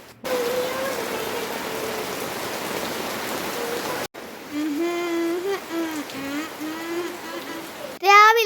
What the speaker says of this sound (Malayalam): എന്തായാലും മഴ തകർത്ത് തിമിർക്കുന്നുണ്ട് കേട്ടോ